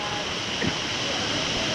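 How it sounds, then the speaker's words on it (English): Tropical Storm Elsa in July 2021 brings a steady, loud roar of wind and driving rain, a continuous rushing wash with no break, recorded outdoors close to the microphone. "It is so windy out here right now."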